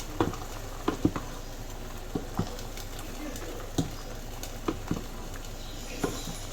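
A spoon stirs food in a cooking pot, making a few light knocks and scrapes at irregular intervals over a faint background hiss.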